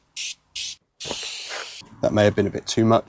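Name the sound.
aerosol anti-spatter spray being sprayed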